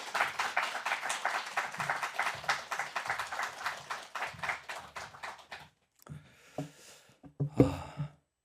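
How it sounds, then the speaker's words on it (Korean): A church congregation at a Sunday worship service claps warmly to welcome the preacher, dense applause that fades out, followed by a few scattered taps and rustles. "나오실 때 뜨거운 박수로서 좀 환영해 주셨으면 좋겠습니다"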